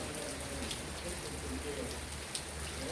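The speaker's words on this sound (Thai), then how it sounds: "พอฝนตกก็มาถ่ายให้เพื่อนดูเลย" Morning rain falls on Bang Saen in Chonburi, Thailand, as a steady, even hiss of drops spattering on surfaces, close and continuous with one faint tap near the end.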